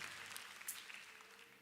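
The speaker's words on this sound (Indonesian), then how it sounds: "Beri tepuk tangan buat Tuhan Yesus" Applause from a church congregation at an evening prayer service, a steady dense clapping that fills the space throughout, moderately distant, with faint voices mixed in.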